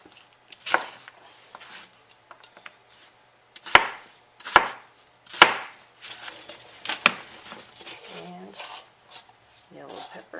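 Purple onion being chopped with a knife on a cutting board in a home kitchen, a few sharp, separate chops with uneven pauses between them, while someone talks quietly in the gaps.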